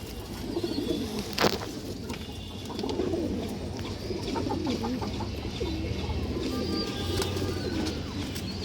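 Red-eyed female pigeon cooing softly amid other birds clucking and cooing, a continuous low flock murmur in a loft with a brief louder knock partway through.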